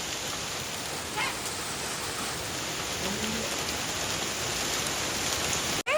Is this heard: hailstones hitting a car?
yes